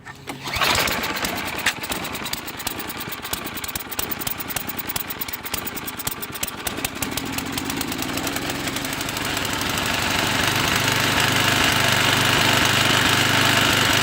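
An 8 horsepower snowblower engine starts and runs steadily, a loud, close, rough mechanical chug that continues without pause and grows slightly fuller toward the end, with no talk over it.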